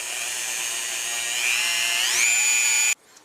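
Dremel rotary tool polishing a gun receiver with compound, a high steady whine that rises in pitch partway through, then cuts off abruptly near the end.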